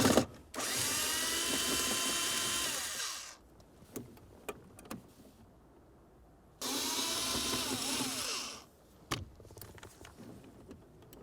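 A power tool runs in two long steady bursts, each about three seconds, backing out 7mm bolts under the cup holders of a 2002-2009 Chevrolet Trailblazer, with small clicks and handling noises in the pauses.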